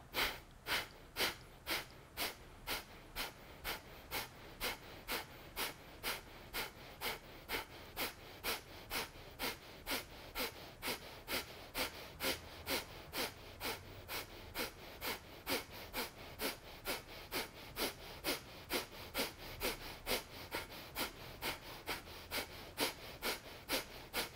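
Fire breath, a Kriya Yoga breathing exercise: rapid, forceful rhythmic exhalations through the nose, evenly spaced at roughly two per second, close and fairly quiet, continuing steadily without speech.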